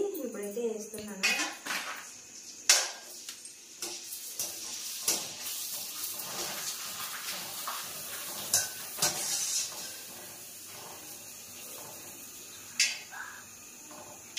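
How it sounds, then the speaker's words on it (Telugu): Food drops into hot oil and fries with a soft sizzle, broken by sharp clinks and scrapes of utensils against pots and pans, and a voice talks at times. "నూనె అయితే వేడి అయిపోయింది. ఇప్పుడైతే వేస్తున్నాను."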